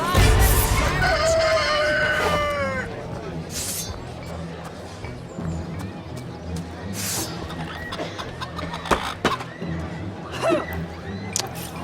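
A rooster clucks and calls in Divinity: Original Sin, a few clear calls near the start that fade into steady game ambience with scattered clatter and soft voices.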